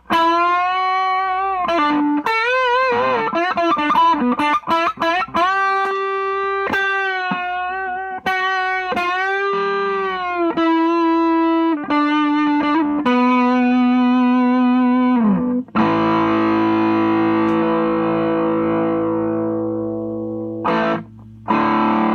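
Electric guitar run through a TFA Effects Sound Cannon distortion pedal, playing loud, heavily saturated riffs with bent and sustained notes, ending on a ringing distorted chord; no talking.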